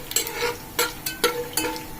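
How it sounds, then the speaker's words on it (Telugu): Biryani spices fry in a pan while a utensil scrapes and stirs in about five quick, uneven strokes over a faint background sizzle. "సో ఇవి కొంచెం ఫ్రై అవుతుంది."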